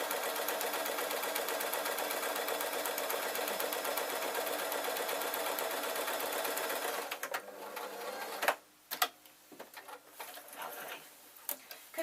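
Sewing machine stitching the lining of a collared waistcoat, a steady close whirring run for about seven seconds, then stopping into short bursts and quiet handling noises.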